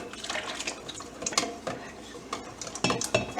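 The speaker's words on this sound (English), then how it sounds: "Whisk that in, and then you're going to mix in your 2 cups of either milk or heavy whipping cream or half and half." Custard for bread pudding is whisked in a bowl, a busy close-up sequence of wet stirring swishes and sharp clinks of the whisk against the bowl, with no talking.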